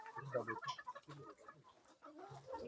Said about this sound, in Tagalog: Bye, chicken.